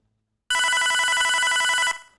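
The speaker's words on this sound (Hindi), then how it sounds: "स्टाफ रूम का फ़ोन बज उठता है।" A staff room telephone at a high school rings in one steady electronic burst of about a second and a half, loud and close, with no voices over it.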